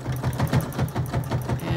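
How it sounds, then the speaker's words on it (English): A sewing machine stitches a cloth mask, a fast, steady run of close, even mechanical needle beats in one short burst. "your sewing machine should sew right over top of them"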